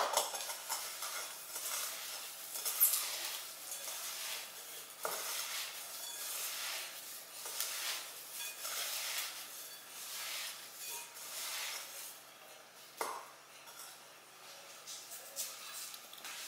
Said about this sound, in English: Throw some dirt in here first,